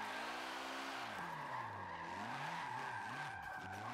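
Tires squeal and skid continuously as a car drifts sideways in the Forza Motorsport 7 racing game, the screech wavering in pitch over a revving engine, loud and up close with no talk.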